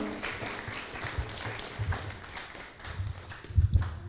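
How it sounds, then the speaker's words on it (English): Scattered applause from a small audience at a medical equipment launch event, uneven, close claps with low thumps and shuffling, rising slightly near the end. "Please give him a round of applause."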